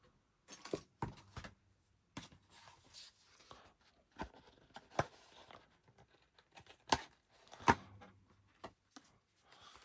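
Overhanging card trimmed off a handmade Christmas card, heard as scattered quiet snips, rustles and taps of the card and blade at close range, with pauses between the cuts.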